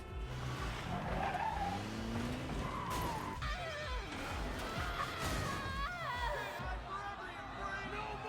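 An animated Jeep skids with loud tire squeals and engine noise in an X-Men '97 cartoon action scene, layered with music and dramatic effects.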